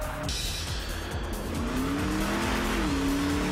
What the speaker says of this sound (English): the brash caddy laid a smoky strip of rubber while warming up to a 0-60 sprint